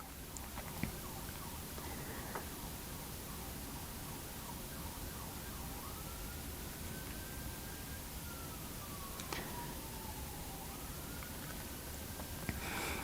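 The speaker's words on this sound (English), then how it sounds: "I'm actually hearing sirens in the background." Faint sirens wail far off, rising and falling beneath a constant hiss of background noise.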